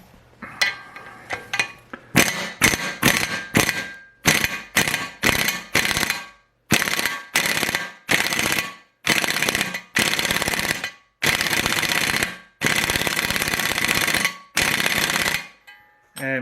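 A powerful impact hammer drives drifts to knock a pinion race out of its housing, firing in about fifteen loud, rapid rattling bursts of varying length separated by short pauses.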